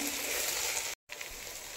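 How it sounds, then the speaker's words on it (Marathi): Rice and mixed vegetables for veg pulao sautéing in oil over a medium flame give a steady close sizzle that is broken by a very short silent gap, with no voices. "भाज्यांसोबत तांदूळ ही 2 ते 3 मिनिटांसाठी असंच परतवून घ्यायचं आहे तेलामध्ये आपल्याला"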